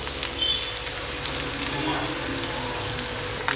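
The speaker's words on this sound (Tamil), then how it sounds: "எல்லாம் ஒன்று சேர நல்லா மிக்ஸ் பண்ணி கொடுத்துட்டேன்" Tomato bath being stirred and mixed in a frying pan, a steady soft sizzle with faint scraping, continuous and close.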